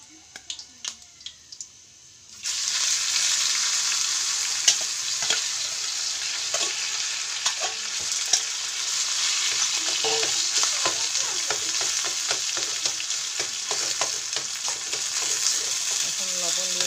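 Sliced onion and boiled taro frying in a pan, a steady loud sizzle starting after a few seconds of quiet tapping, with spatula scrapes and clicks scattered through.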